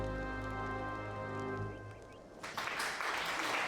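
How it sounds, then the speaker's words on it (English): Final Fantasy XIV game music with steady tones fades out, then a stream-alert burst of crowd applause breaks in and continues, bright and dense. "So, Grim, I'm keeping the applause on sound alerts for sure"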